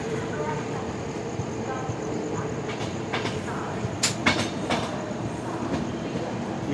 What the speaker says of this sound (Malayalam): ഇവിടുന്ന് ഏതൊരു ട്രെയിൻ പുറപ്പെടാൻ തയ്യാറാകുന്നുണ്ട്.